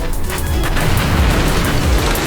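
A grenade explodes in a video game, a loud, dense rumbling boom with continuous low-end roar and crackle throughout.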